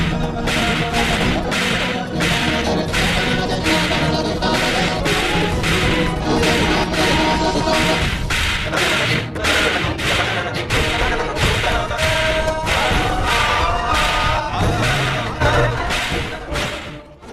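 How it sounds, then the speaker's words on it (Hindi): Rapid slaps from a TV drama land in a steady, relentless series of sharp loud cracks, roughly two per second, over dramatic background music. "फिर डायरेक्टर ने ड्रामे में थप्पड़ों की वो बारिश कराई"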